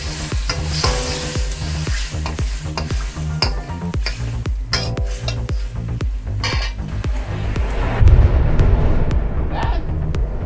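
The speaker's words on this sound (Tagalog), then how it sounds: "Tapos lalagay na natin yung sardinas." Canned sardines frying and being stirred in a pan with water and vegetable stems, a steady sizzle broken by repeated scraping and clinking of a utensil against the pan, close and fairly loud, with a louder burst near the end.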